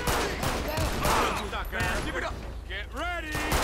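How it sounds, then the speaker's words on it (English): Rapid bursts of gunfire crackle in GTA 5 with an LSPDFR police mod during a city patrol, mixed with engine noise, vehicle sounds and people talking over the action. "Yeah, they are shooting."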